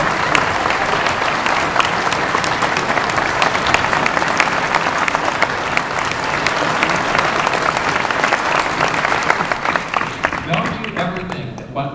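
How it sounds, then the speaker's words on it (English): An audience applauds a woman being honoured at a gathering, sustained loud clapping from a full room lasting several seconds, with voices mixed in before it tapers off at the end. "I'd like you to clap for her."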